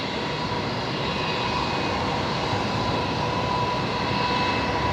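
Qantas flight 1948, an Embraer jet, departs Brisbane on runway 01 right bound for Emerald, its engines a steady, loud broadband roar that holds evenly throughout without any voices.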